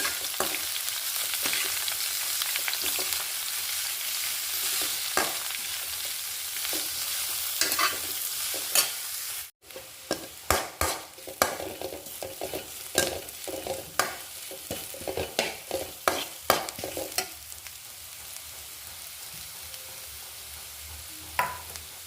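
Onions frying in a pan for Kerala-style chickpea curry, a continuous sizzle with repeated scraping stirs of a spoon, close and fairly loud, with a brief break midway.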